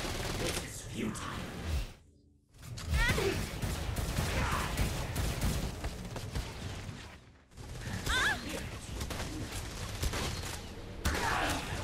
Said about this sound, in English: So the cannon's more piercing.